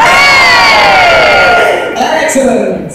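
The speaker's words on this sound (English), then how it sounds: "My lords, my ladies, raise a cheer for Sir Austin." A large dinner-theatre crowd at Medieval Times roars a loud, sustained cheer during a knighting ceremony, many voices shouting and whooping together before the sound slowly thins out.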